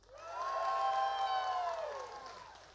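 An audience at a percussion concert cheers and whoops in one sustained swell of many voices, rising quickly, holding strong and then fading over about three seconds.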